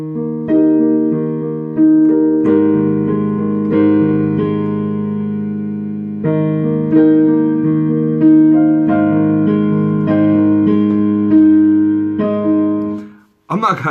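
Piano plays the chorus of the Candyman theme: sustained chords and a slow melody ringing out loud and near, with no talk over it.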